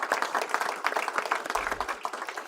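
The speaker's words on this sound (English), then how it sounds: "So let's give Mayor Bowser a round of applause for this." Applause for Mayor Bowser breaks out at a Washington DC government event, a brief patter of many hands clapping at moderate distance.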